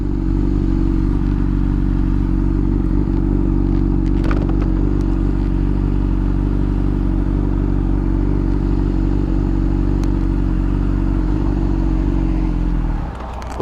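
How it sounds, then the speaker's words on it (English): A 2009 Honda CBR600RR sport bike engine idles steadily and loudly up close, a continuous low even rumble with faint mechanical clatter, cutting off at the very end. "Engine's idling just fine."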